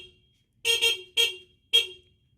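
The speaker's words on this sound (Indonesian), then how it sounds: "klakson." Horn of a restored Honda Win 100 motorcycle with a 12-volt upgrade, sounded as a quick double beep followed by two separate short honks, close and clear against near silence.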